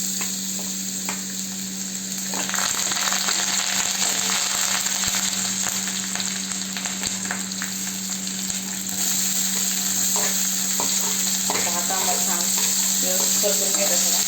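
Ginger garlic paste frying in a pan while cooking moong bhaji: a steady, dense sizzle runs throughout at close range, with occasional stirring scrapes over the top and no talking.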